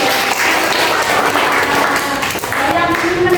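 A classroom of students bursts into sustained clapping for a classmate, dense and loud, with voices mixed in.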